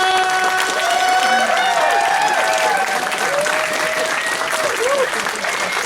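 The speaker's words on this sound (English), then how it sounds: "give a round of applause for the one, the only," A packed convention panel room at MFF 2018 bursts into loud, sustained applause for Alkali, with many hands clapping continuously while cheers and whoops rise over the crowd and voices shout through it.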